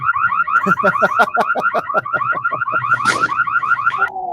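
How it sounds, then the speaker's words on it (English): An alarm wails from a played video, a loud rapid warbling siren cycling up and down in quick repeated sweeps with no voices over it. "No, Tanner was too busy listening to the alarm, and he got distracted."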